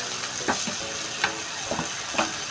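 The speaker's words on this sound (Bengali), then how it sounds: "ভালো করে এতে ভেজে নিতে হবে।" Lentil paste fries with pointed gourd seeds in hot oil, giving a steady close sizzle broken by a few soft stirring scrapes at regular intervals.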